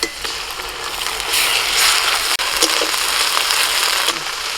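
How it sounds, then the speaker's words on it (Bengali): Onions fry in a pan as ginger-garlic paste goes in, with a loud steady hiss that swells midway, a brief sharp knock, and a faint voice in the background. "পেঁয়াজটা ভেজে আদা রসুন বাটাটা দিয়ে দিচ্ছি।"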